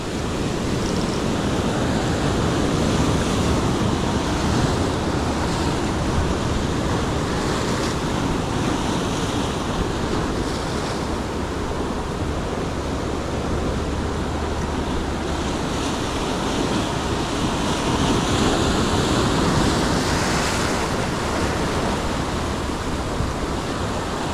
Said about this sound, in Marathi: लाट आहेत मजबूत